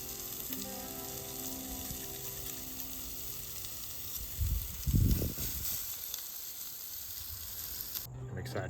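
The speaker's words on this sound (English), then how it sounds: "We're doing a steak and onions with a little bit of beer in there, so we didn't have any oil or butter." Steak and onions fry in a pan with a splash of beer and no oil, giving a steady hiss outdoors on an off-road trip, swelling briefly louder midway, with faint voices underneath.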